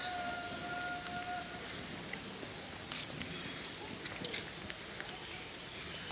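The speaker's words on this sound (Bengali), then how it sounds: "হালকা হালকা বৃষ্টি পড়ছে" Steady, soft hiss of light rain falling at a riverside ghat in Panihati, a continuous gentle patter with occasional faint drips, heard close by with no voices.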